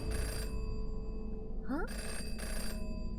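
A telephone rings in the game Jenny LeClue, with a loud electronic ring burst, a pause, then two more bursts of ringing, with a rising chirp between them and a brief word spoken.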